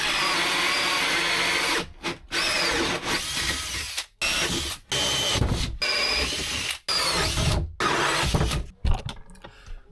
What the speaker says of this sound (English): we need to drill holes in here so the mattress doesn't get moldy over time